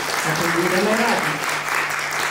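Applause from a small audience at a first-grade school celebration of letters: steady clapping that fills the whole stretch at close range, with a child's or adult's voice briefly sounding through it.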